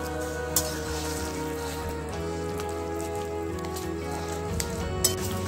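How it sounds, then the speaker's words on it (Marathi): Pav bhaji vegetables sauté in a pan with a steady, even sizzle and crackle, close and moderate in level, with a few small clicks from a spoon. "थोडा वेळ भाजी छान परतून घ्यायची."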